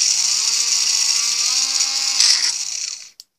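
A high-pitched power tool whines steadily while filing the edges off a plastic tumble dryer knob. It runs loud and close for about three seconds, then winds down and stops.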